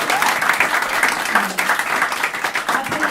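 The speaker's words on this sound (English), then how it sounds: "A big round of applause as well for James Walker" Enthusiastic live comedy crowd applause for comedian James Walker, dense and continuous throughout, with a few shouts mixed into the clapping.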